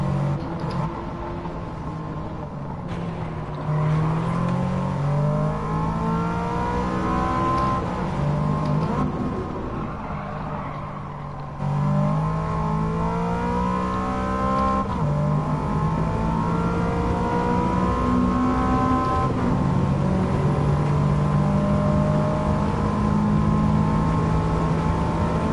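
Race cars roar around Trial Mountain in Gran Turismo 7, engines droning steadily with rising and falling pitch as they shift and accelerate, loud and continuous throughout with no voices.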